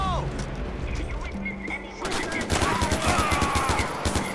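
Rapid automatic AK-47 fire in the Far Cry 4 video game, a loud fusillade of dense overlapping bursts that grows heavier halfway through, with mechanical clatter and shouting voices mixed in.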